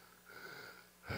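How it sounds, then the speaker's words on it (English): A preacher catching his breath gives a faint, wheezy inhale followed by a sharper, louder breath at the end, with no words. "I gotta try to catch my breath."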